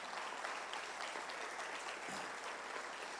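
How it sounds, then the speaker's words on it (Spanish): A church congregation applauds steadily throughout, dense continuous clapping from many hands, fairly distant and even in level with no pauses. "Dale un fuerte aplauso al Señor Jesús."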